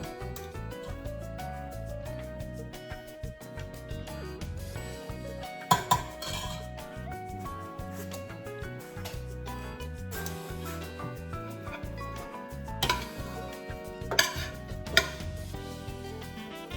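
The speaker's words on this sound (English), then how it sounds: "Now the leftover stuffing, I'm gonna put in my little casserole dish." Leftover stuffing goes into a small casserole dish for a stuffed roast chicken, with soft clinks and scrapes of a utensil against the dish and a few sharper knocks, fairly quiet and close, with no talk.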